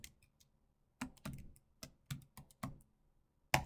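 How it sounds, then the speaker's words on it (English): Keystrokes on a computer keyboard as a password is entered at a terminal prompt for a Python program: about eight sparse, irregular clicks with short pauses, quiet and close, with no talking. "So let me type in something."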